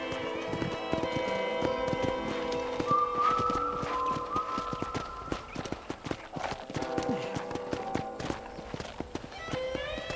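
Horse hooves clip-clop steadily at a walking pace over a bed of soft music in Red Dead Redemption, with a brief whinny-like sound and no talking.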